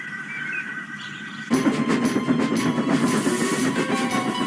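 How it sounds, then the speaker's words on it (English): A booming whistle sounds in the distance, then a heavy goods train rushes past close by, its loud broadband roar, hiss and rhythmic wheel clatter filling the air steadily. "Gordon's speech was interrupted by a booming whistle in the distance."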